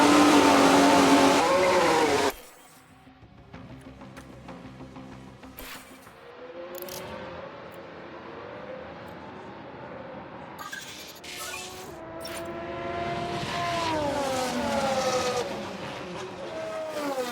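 A Formula 1 car spinning out in F1 Manager 2022, a loud engine whine cutting off abruptly, followed by quieter engine tones and rising revs from other cars passing, building toward the end.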